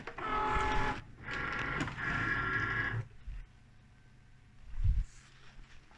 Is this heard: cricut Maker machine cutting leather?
yes